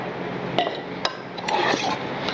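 Herb-roasted lamb and mini potatoes being stirred together in a dish, with a few distinct clinks and scrapes of a utensil against the dish over a low kitchen background, close and moderately loud.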